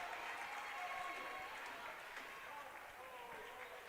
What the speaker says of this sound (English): Applause from the Trinity bench.